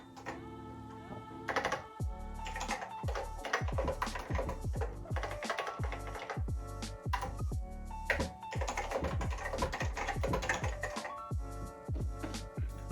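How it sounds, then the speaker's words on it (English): Keys clatter on a Macintosh Plus computer keyboard in close, crisp irregular strokes, typing in quick runs with short pauses and no talk. "This is to test out your keyboard. So I'm going to put in hello."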